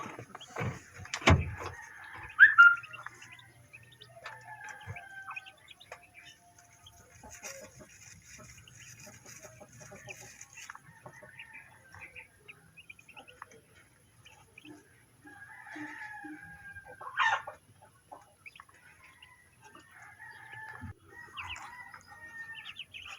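Chickens cluck softly and intermittently in a quiet yard with ducks, with a rooster crowing a couple of times at moderate distance.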